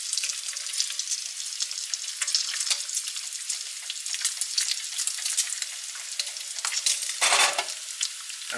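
Strips of bacon sizzle and crackle steadily in a hot frying pan, a dense close hiss with sharp pops throughout and one louder burst near the end.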